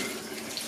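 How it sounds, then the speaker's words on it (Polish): Tap water running steadily into a bowl in a home kitchen during preparation of pork for traditional Polish salceson, a continuous close hiss with no talk. "niech się woda pomalutku leje"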